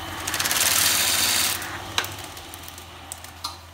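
A wood lathe turns while a skew chisel's long point cuts a disc for beehive comb-honey frames, giving a loud steady broadband hiss for about a second and a half, then a quieter motor hum with a few light taps.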